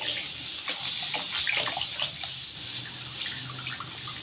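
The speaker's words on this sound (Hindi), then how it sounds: "सबसे पहले मैं इसमें थोड़ा सा पानी ऐड कर दूंगी।" Water poured into a hot pan while making boli, giving a steady close hissing, splashing pour that runs throughout, with a few brighter sizzling bursts and no talking.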